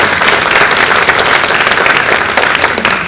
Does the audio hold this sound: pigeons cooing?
no